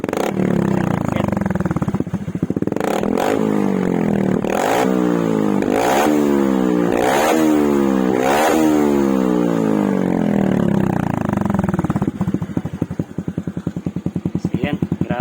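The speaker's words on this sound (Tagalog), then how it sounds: "grabe ang lakas yung tunog mga bay pag walang silencer" Motorcycle fitted with a Taikom power pipe and no silencer, revving hard and loud up close in several rising and falling surges over a rough idle, with a voice talking briefly near the end.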